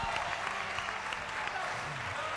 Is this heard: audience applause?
yes